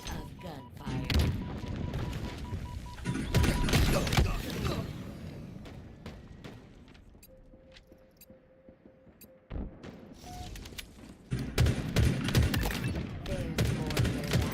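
Gunfire in the video game Halo Infinite, bursts of shots and booming impacts in a loud, dense fusillade, easing into a quieter stretch midway before the firing picks up again, with a voice talking over it.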